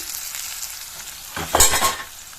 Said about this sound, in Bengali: ফোড়নটা লাল লাল হয়ে গেছে এবার আমি এর মধ্যে পেঁয়াজ কুচি দিয়ে দিচ্ছি